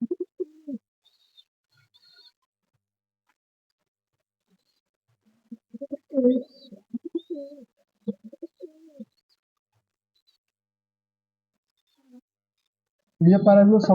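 Madras pigeons cooing nearby in short, throaty bursts separated by long quiet gaps, ending with a louder, fuller coo.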